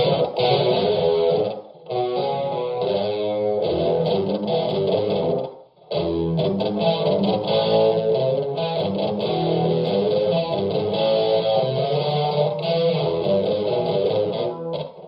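Distorted electric guitar riff played through Rockman modules, soaked in chorus-like effects, loud and continuous, with two brief pauses between phrases.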